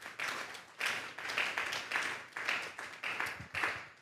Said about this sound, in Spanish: Denle un fuerte aplauso pues al Señor esta tarde.